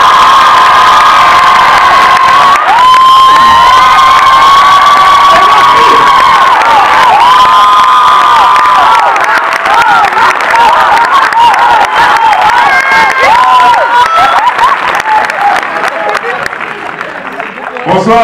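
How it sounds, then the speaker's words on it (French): A large audience at a French film premiere debate cheers, whoops and applauds loudly and continuously for actor Omar Sy's entrance, a dense roar of crowd noise and clapping with shouts throughout. "Donc je vous en supplie, applaudissez très fort."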